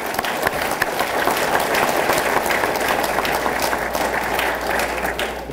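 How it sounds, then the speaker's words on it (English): Audience applause at a fire and rescue awards and recognition ceremony in Suffolk, a full, steady roar of clapping from a large indoor crowd that holds evenly throughout without talk. "Give everybody a round of applause,"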